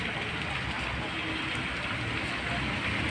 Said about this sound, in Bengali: একটু জোরে বৃষ্টি হতে না হতেই বৃষ্টিটা কমে গেল, কিন্তু ধীরে ধীরে বৃষ্টি হচ্ছে।